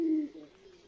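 Pigeon giving a single short, soft coo close by, with nothing else around it.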